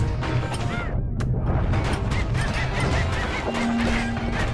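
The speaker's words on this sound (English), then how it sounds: "the reason why I keep calling them birds is because I refuse to call them peckers" Pecker birds squawking in the video game Bastion, a dense cluster of harsh honking, goose-like cries over a busy, continuous game soundscape.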